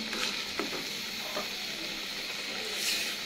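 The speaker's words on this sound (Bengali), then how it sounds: "মশলাগুলো খুব ভালোভাবে কষিয়ে নেব।" Potatoes and spices fry in a pan at a soft, steady sizzle, with occasional stirring scrapes and pops, quiet and close, no talking.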